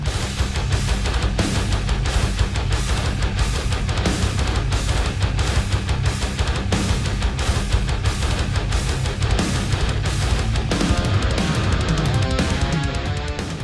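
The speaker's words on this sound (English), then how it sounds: "Herta is a hybrid rudiment comprised of two 16th notes followed by two 8th notes." A Herta hybrid drum rudiment, two sixteenth notes followed by two eighth notes, is played over and over in a loud, steady, driving pattern of sharp hits, heard alone without speech.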